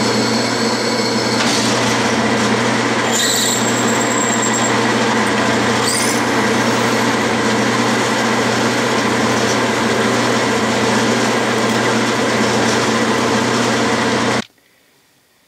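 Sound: drill press drilling a deep 1/4 inch hole with oil

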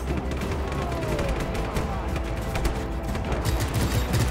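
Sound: gunfire from the video game Just Cause 3

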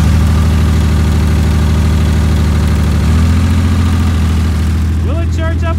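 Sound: Ford Explorer engine running and idling

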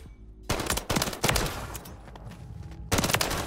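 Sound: gunshots from the player's gun in a shooter video game

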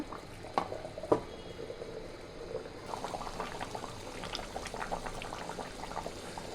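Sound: beef curry boiling in pot

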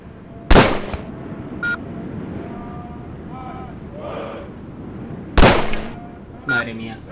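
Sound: gunfire at targets, video game

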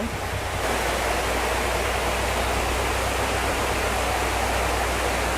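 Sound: waterfall at a resort

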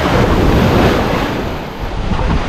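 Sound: ocean waves at high tide on Maragogi beach

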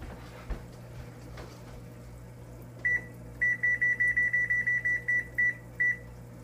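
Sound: timer beeping while being set

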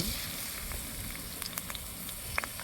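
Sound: chopped onion frying in hot oil in a wok

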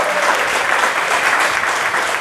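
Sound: applause at a poster launch event

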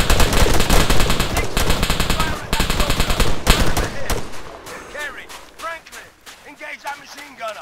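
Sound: soldiers' gunfire in video game ArmA 3

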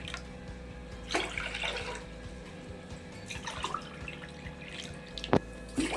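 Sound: water being poured into a pot for ragi mudde

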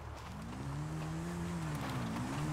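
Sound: car engine and tires in the video game GTA

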